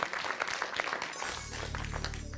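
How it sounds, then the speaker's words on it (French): Applause from a French game show studio audience, a lively burst of many hands clapping that tapers off as a musical sting rises underneath. "on applaudit les bleus, on vous encourage"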